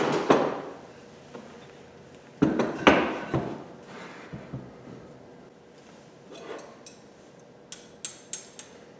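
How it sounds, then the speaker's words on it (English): A series of sharp metallic taps, some in quick bursts and some spaced apart, as a hammer strikes a punch to drive a pin from a Winchester 1897 shotgun, with light clinks at the end. "we'll be removing this pin right here. So you're going to get your punch and hammer."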